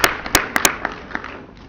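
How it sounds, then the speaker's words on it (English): A few scattered claps from an audience greeting the Minister for Tourism at the opening session of a public-private partnership policy forum, sharp separate hits that thin out and fade within a couple of seconds. "please give him a round of applause."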